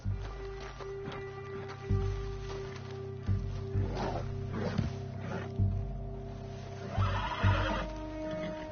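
A horse whinnies several times in the video game Red Dead Redemption 2, against a steady low hum and background music, with soft thumps between the calls.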